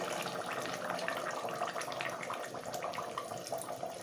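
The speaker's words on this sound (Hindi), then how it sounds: "हाफ मग्गे से थोड़ा सा ज़्यादा पानी मैंने डाला है इसमें" Water poured from a mug into a cooking pot while making spiced potato slices (aloo ki katlian), a steady close splashing pour lasting several seconds at even loudness, with no talking.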